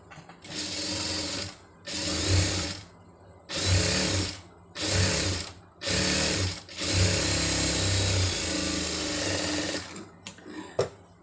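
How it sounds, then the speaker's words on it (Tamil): A sewing machine stitches a folded designer sleeve cloth in five or six short whirring runs separated by brief pauses, then one longer steady run, close and clear, with no talking. "இப்போ இதை அப்படியே மடித்து தையல் போடுங்க"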